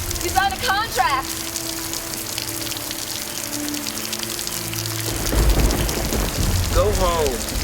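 Steady rain falls through the whole stretch as a dense hiss, with low rumbling underneath and brief voices speaking over it at the start and end.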